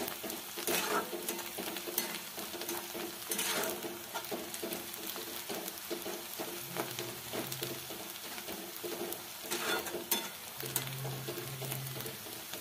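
Onions for egg bhurji fry in a pan with a continuous sizzle, broken by periodic stirring scrapes and occasional faint tones in the background.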